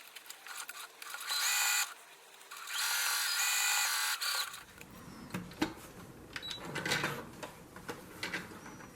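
A sewing machine running a straight stitch across a fabric face mask, two sustained whirring bursts of stitching close by, followed by quieter handling rustles and clicks of the fabric.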